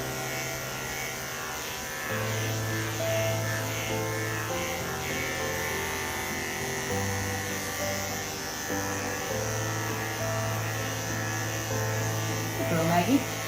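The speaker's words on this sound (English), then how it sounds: "I shave like the inner part of her leg right here" Electric clippers buzz steadily as they shave the inner leg of a Doodle dog during grooming, holding a continuous, close mechanical hum that shifts slightly in pitch as the blade moves through the fur.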